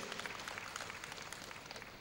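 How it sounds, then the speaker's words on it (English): A crowd at a university convocation lecture applauds briefly with brisk, dense, even clapping throughout, and no voices are heard. "A round of applause for him, please."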